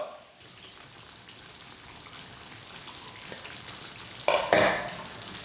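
Pork menudo with carrots, potatoes and coconut milk simmers softly in a pan, a faint steady sizzle that is broken near the end by a couple of louder stirring scrapes and splashes.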